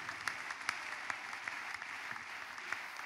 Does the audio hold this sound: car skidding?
no